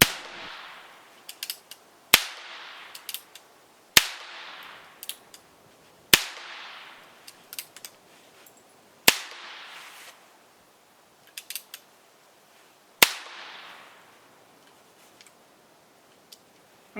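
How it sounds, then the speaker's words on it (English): Percussion caps fire on an 1860 Colt Army revolver, six sharp cracks spaced about two seconds apart, each with brief ringing decay and faint clicks of the cylinder turning between shots. "So I'm going to clear it and just fire off 6 caps."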